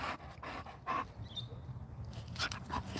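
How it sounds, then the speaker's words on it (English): Dog panting in quick, steady breaths close by, a soft continuous huff over faint room noise with a brief whimper-like tone. "This dog is always coming back."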